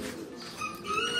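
Pigeons coo close by in a short, soft, throaty call with a faint chirp over it.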